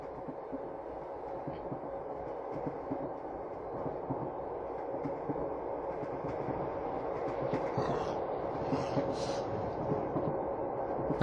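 A train in the horror video game The Train rumbles along in a steady, continuous low roar with faint rattles, and no voices.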